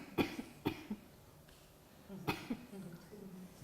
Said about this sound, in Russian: Кашляй